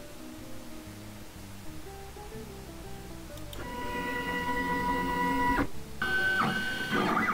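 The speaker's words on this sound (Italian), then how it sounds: "Sembra più una stampante a getto di inchiostro che una stampante" Printer-like mechanical whirring from a machine in the toy tinker sandbox video game, starting quietly over soft game tones and swelling into a louder, buzzy printing run with a brief pause near the end.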